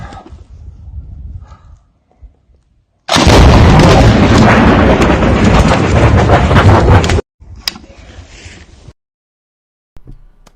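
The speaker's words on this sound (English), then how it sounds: "missiles explode when they get shot" Artillery fire during heavy shelling on the Ukrainian front, with a missile exploding after being shot, a loud sustained blast lasting about four seconds that cuts off abruptly, followed by fainter rumbling.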